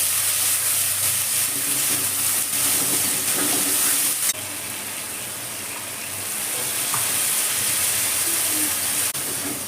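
A ground paste of ginger, garlic, onion, green chilli, cumin and tomato fries in a pan for a jackfruit and prawn curry, a loud continuous sizzling hiss that dips midway, then swells again, with faint stirring.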